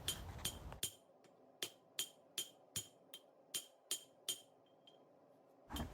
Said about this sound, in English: After a whole lot of swinging the hammer